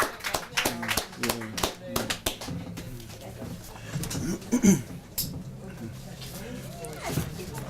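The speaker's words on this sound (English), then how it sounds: "Can we have another round of applause for Armand Ruhlman?" Scattered audience clapping at a New York ghost city walking tour, sharp separate claps bunched in the first couple of seconds, then trailing off as talking voices carry on.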